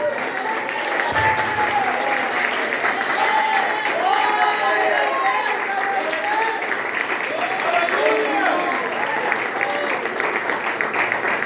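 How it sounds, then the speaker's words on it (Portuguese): Sustained applause from a church congregation during a worship service, dense and steady clapping filling the room throughout, with crowd voices mixed in. "Vamos dar a melhor salva de palmas ao Senhor"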